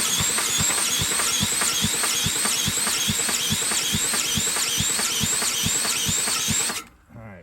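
A 10,000 watt generator engine spun by a cordless drill, a loud steady rapid chugging with a high whining squeal over it, running continuously before cutting off abruptly near the end.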